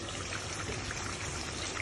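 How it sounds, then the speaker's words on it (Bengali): Water poured into a thick, simmering curry during cooking, a steady, fairly loud pouring splash that runs unbroken for about two seconds with no voices. "কষাটা একটু পানি দিব।"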